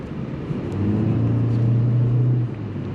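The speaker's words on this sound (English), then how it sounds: "The car likes to rev up a lot, but the thing is, it revs up a lot, but you're not going anywhere." A 2021 Toyota C-HR's engine revs up inside the cabin, a low droning hum that swells for about two seconds and then settles back to idle.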